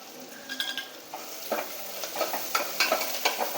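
Crushed garlic and a sprig of curry leaves sauté in a pan, a light hiss under a handful of sharp spatula scrapes and stirs that grow busier toward the end. Nobody talks.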